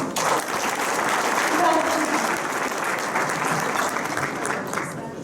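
A large audience at an award ceremony in Ankara applauds a performer leaving the stage: dense, sustained clapping that swells slightly midway and then holds steady before easing off near the end.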